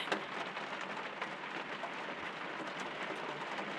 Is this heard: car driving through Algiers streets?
no